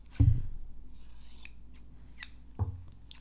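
Scissors snip through cotton gauze twice, a crisp close cut near the start and another about two seconds later, with faint rustling of the fabric in between.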